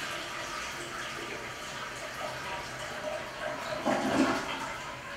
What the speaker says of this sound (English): We're going to move on to the toilet. We're going to make sure that it flushes properly.